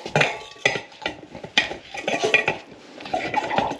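A Pulverinox pressure sprayer for treating bed bugs being closed and locked, heard as a few close, sharp plastic clicks and clunks in quick succession with rattling handling noise between them.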